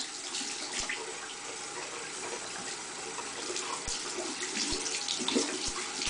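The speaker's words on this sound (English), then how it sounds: "And then you just want to run it under the tap." Tap water runs steadily over a makeup brush being rinsed clean, a continuous close splashing hiss with a few soft knocks, no voices.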